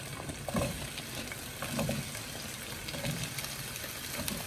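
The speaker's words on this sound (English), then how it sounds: "I'm gonna stir fry this" Onion and garlic sizzle in a hot pan as they are stir-fried for beef caldereta, a Filipino dish, with a continuous crackling hiss and a few spatula scrapes close up, no speech.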